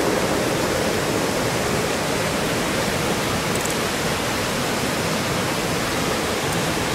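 A waterfall roars as a constant, dense rush of water, loud and unchanging throughout, with no voices.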